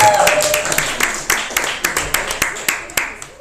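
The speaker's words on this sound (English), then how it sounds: "Big one applause for Jerry," Rhythmic clapping from a small audience at a storytelling show, steady and fairly close, with an initial burst followed by evenly spaced claps and faint voices beneath.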